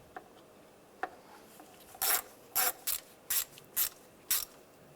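A ratchet tightens the bolt on an A/C discharge hose of a 2014-2019 Toyota Corolla, giving six short, close rasping clicks in quick bursts after a couple of faint taps.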